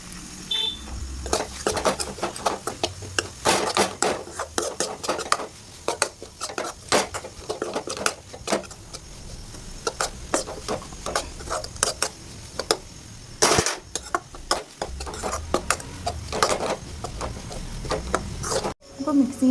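Spices being stirred into chopped kothu parotta in a metal pan, with a steady run of scraping and clanking of a utensil against the pan, a few louder metallic knocks and pauses.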